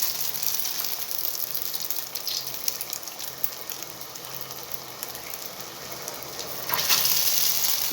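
Flattened potato cutlets, dipped in batter, sizzle in hot oil with a steady bright hiss that continues unbroken, a louder crackling swell near the end as more pieces go in.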